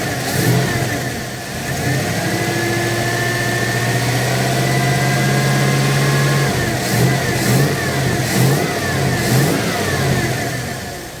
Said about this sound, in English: Okay, that revved up to about 30 on the damper.